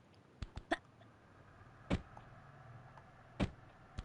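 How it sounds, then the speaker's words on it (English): Lara Croft's short, hiccup-like jump grunt from the 1997 game Tomb Raider II recurs at intervals, sharp clicky bursts heard several times in quick succession and then twice more, spaced apart over faint background sound. "The sound every time Lara does the jump"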